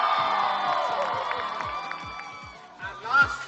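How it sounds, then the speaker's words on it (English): A large crowd at an international meeting cheers loudly for the Singapore team, with whoops and children's shouts swelling, then easing as a louder surge of voices returns near the end. "I want to hear a loud cheer for Singapore team."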